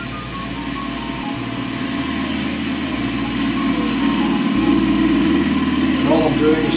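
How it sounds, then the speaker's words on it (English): A woodturning lathe spins a resin blank for a hybrid shaving brush while a skew chisel cuts into it, giving a loud, steady motor hum with a rasping cut and a voice talking over it. "all I'm doing is just letting the skew work its way in with a little bit of pressure, trying to stay on the cut."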